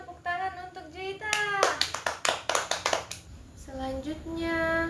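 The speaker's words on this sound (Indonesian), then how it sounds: "Ayo teman-teman, tepuk tangan untuk Juita." A classroom of children claps together for a classmate, a burst of quick, loud, overlapping hand claps lasting a couple of seconds, with a voice and a teacher speaking before and after.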